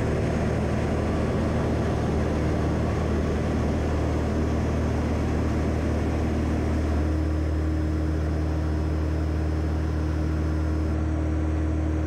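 Steady drone of a 2007 Van's RV-10 light aircraft's piston engine and propeller in cruise near Long Beach at about 4,500 feet, around 2300 RPM, a constant loud hum with no speech.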